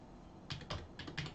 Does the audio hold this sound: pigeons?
no